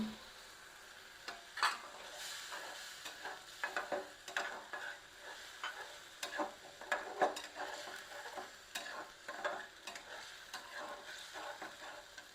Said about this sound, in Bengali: এ দিয়ে এখন কষাইতে হবে আমি একটু কষায় নিই